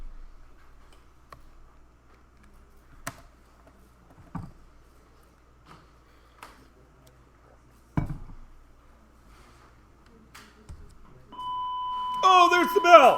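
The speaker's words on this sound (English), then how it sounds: "there's the bell" An electronic school bell rings in two tones at the very end, following a quiet stretch of scattered taps and clicks in the classroom.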